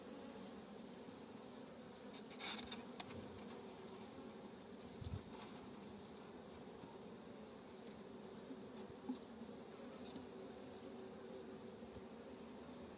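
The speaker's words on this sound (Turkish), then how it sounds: "Arıları öldürmemeye özen gösteriyoruz." Honeybees buzz around an open modern beehive during a brood and stock inspection, a steady close drone of many bees running throughout with a few brief handling knocks and no talk.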